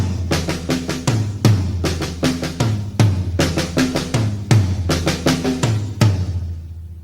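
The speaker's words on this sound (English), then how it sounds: "put the accented notes, which aren't doubled, on the toms and leave the double notes on the snare drum." Drum kit pattern with accented tom hits and doubled strokes on the snare, played as a steady repeating groove, loud and close with no talking.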